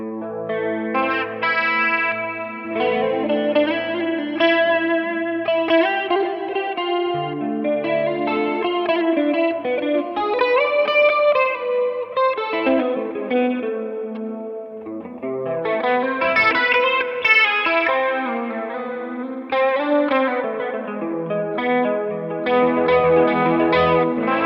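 Clean electric guitar tone played through an M-VAVE Tank Pro multi-effects unit with chorus shimmer and reverb, a steady run of chords and melodic lines at close range with no talking.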